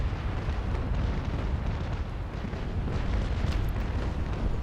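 Ship cannons firing in the naval combat game Naval Action, heard as a dense, continuous rumbling roar of overlapping booms that stays loud and heavy throughout without clear gaps.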